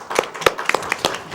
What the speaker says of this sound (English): See, math even gets applause.